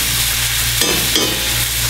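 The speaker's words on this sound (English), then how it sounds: "we're going to add just a little bit of butter in the bottom of the pan" A steak pan-frying in butter, giving a loud, continuous sizzle close up with a couple of brief bursts where the meat shifts in the pan, and no talking.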